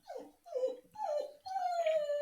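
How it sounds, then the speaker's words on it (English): A dog whimpers in three short falling cries, then breaks into a longer, steady howl, close and fairly loud with no other sounds around it. "what's wrong with your dog?"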